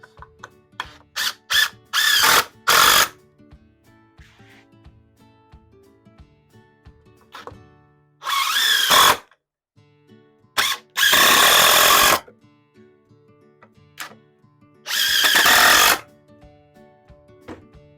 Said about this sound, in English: Hold it in place and drive some screws.